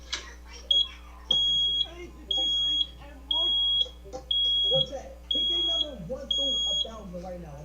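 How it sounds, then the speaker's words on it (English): An alarm panel gives a steady series of sharp, high electronic beeps, roughly one per second, about seven in a row, with people talking underneath. "It's just the panel beeping."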